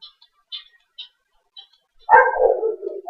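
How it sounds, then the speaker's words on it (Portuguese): A nearby dog barks, yips and whines loudly in a short burst after a few faint, high chirps, with construction noise around it. "É obra, é cachorro."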